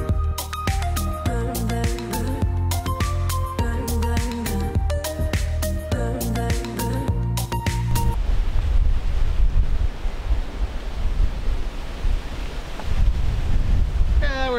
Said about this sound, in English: we're still getting a couple gusts here and there, but really not much at all.